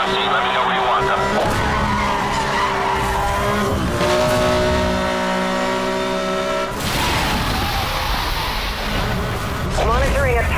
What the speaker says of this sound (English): Monitoring a tire blowout.